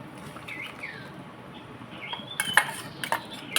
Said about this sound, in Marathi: चांगला परतून घेऊया तर आपण वाटलेला वाटाप होता ना त्या घालून घेऊया